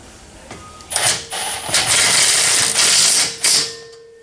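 A hand ratchet tightens a cable bolt on a customized Infiniti coupe, making several loud bursts of rapid metallic clicking close up, separated by short pauses, with no speech.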